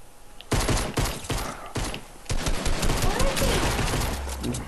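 Rapid bursts of blue pistol gunfire in a video game, loud and close, with sharp repeated shots cutting through a busy game soundscape from about half a second onward.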